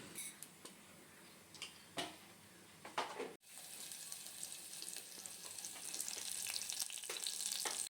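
A faint scattering of clicks and pops gives way to a sudden, steady sizzle of spices crackling in hot oil that grows louder toward the end.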